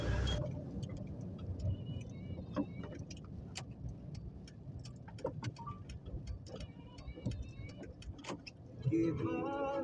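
A car winds along the Kalinga Ghati mountain ghat road in a landslide area during light rain, its engine a low steady rumble beneath scattered ticks and taps, with faint voices in the background.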